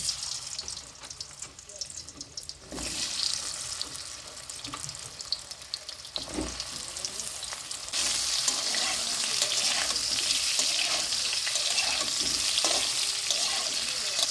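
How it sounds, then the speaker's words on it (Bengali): Steady sizzling of turmeric-coated pointed gourd frying in a pan, with occasional stirring scrapes and a brief burst of running water; the sizzle grows louder partway through. No talking. "হলুদ মাখানো পটলগুলো ভেজে নেব।"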